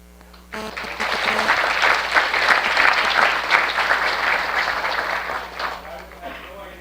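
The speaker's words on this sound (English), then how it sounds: "they deserve a round of applause" An audience at a university evening lecture bursts into applause, a close, dense clatter of many hands that swells quickly, holds for several seconds, then thins and fades out.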